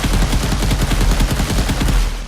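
Light machine gun firing in an Unreal Engine video game, a continuous rapid burst of loud, dense shots with no pauses.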